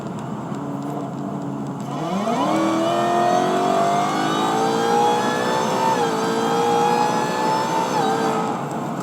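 A Ford Mustang engine accelerates hard from about 50 mph, its roar climbing steadily in pitch, dipping briefly at a gear change and then rising again, loud and sustained.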